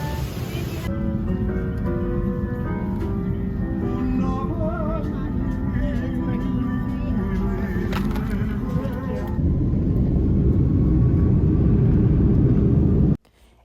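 Airplane cabin on a direct flight from Las Vegas to Oahu: a loud, constant engine drone and rushing air fill the cabin throughout, with a faint tonal whine, then the roar cuts off abruptly at the end.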